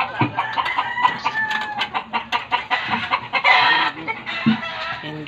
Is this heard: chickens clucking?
yes